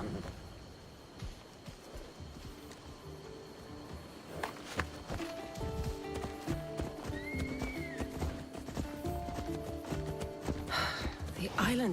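Horses gallop and trot with steady clip-clop hoofbeats and an occasional whinny while riding in Assassin's Creed Odyssey, set against game music and character dialogue.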